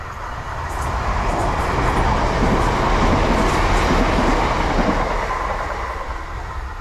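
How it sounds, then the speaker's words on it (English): A train passes nearby on an evening run, a loud, sustained rumble that swells and fades with rolling rail clatter and no talk over it. "Brief interruption because the train's coming."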